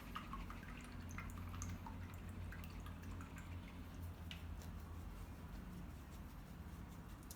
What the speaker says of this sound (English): So wash your brush out.